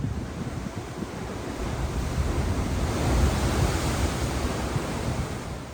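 Sea waves surge at the mouth of a small coastal cave on Niue, a dense broadband roar that swells and recedes, mixed with wind buffeting the microphone, with no voices.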